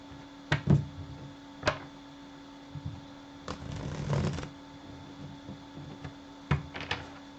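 Several bursts of tarot cards being shuffled, quick riffling clusters separated by short pauses, close and fairly quiet with no talking.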